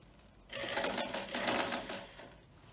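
Steady, continuous stitching from a sewing machine running a half-centimeter seam through fabric for a baby car seat cover with ordinary polyester thread, starting after a brief quiet moment and whirring close and alone for about two seconds.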